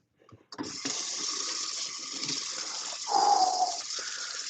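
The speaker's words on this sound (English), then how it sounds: "I'm gonna wash my hands first." Water gushes steadily from a tap into a sink as hands are washed, starting abruptly after a brief clatter and continuing as a constant rushing stream that swells slightly partway through.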